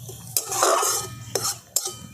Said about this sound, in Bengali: হিংটা দিয়ে আমি একটু ভাজা ভাজা করে নিচ্ছি।